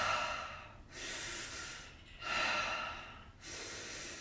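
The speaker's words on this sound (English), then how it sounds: "Inhale, right, exhale," Breathing during a power yoga class, with three long, airy breaths in steady rhythm, each rising and fading, close and fairly soft, with no talking.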